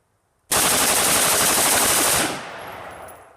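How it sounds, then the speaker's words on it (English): A Colt M16-pattern rifle fires a sustained 20-round full-auto burst, the shots merging into one loud, dense roar for about two seconds before cutting off, followed by a fading echo. "This is a 20-round burst, full auto."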